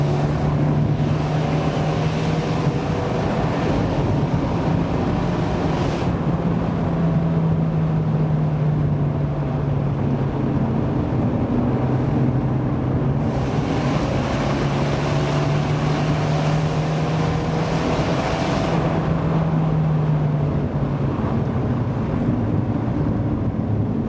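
Abarth 124 Spider with a 1.4 turbo engine driven in sport mode, a continuous low exhaust drone with steady engine hum and heavy wind rush from the road, no talking.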